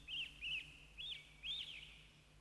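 Injured mother bird chirping in a Moomin cartoon, four short, bright, high chirps in a loose rhythm, close and clear over a faint low hum, with no talking.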